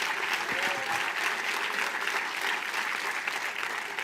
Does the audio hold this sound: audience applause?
yes